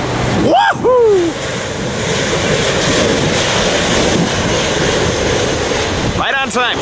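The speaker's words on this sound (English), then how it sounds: "As this awesome British plane lands into Lindbergh Field" A British Airways airliner lands at Lindbergh Field, its engines a loud, steady roar against wind noise, with excited voices calling out near the start and again at the end.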